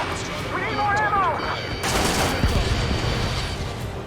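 Sustained gunfire and explosive blasts from the jet combat game Ace Combat 7, loud and dense, with a broadband burst after the first couple of seconds and shouted radio voices over the opening.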